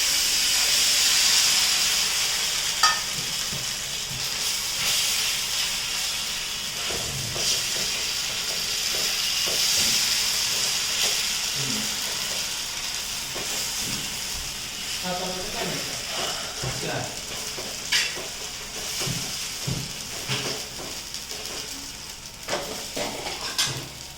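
Pudla, gram flour pancakes, frying in oil in a home kitchen: a steady, bright sizzle and hiss throughout, with occasional clinks of a utensil against the pan and faint voices in the background.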